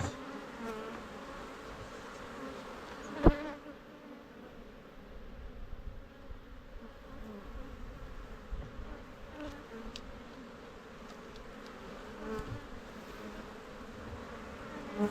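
Bees buzzing low and steady around beehives in an outdoor apiary, a faint continuous drone with a sharp knock near the start and scattered small clicks.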